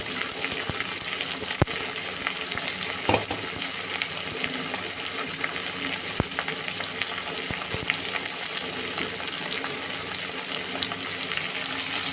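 Chopped tomatoes sizzle and crackle steadily in a hot pan with browning onions for a pea and mushroom curry, with occasional clicks from stirring.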